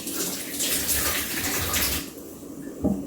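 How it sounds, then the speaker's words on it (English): Hands are washed under a kitchen tap, with water running steadily and splashing close by in a continuous rush that eases near the end, punctuated by a brief clink. "You can see I wash my hands a lot."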